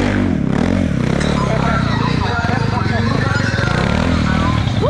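A TVS Apache RTR 200 motorcycle warming up for a stunt riding show at Amity University in Jaipur, its engine droning steadily and loudly throughout with revving fluctuations, close by, under a busy outdoor crowd murmur.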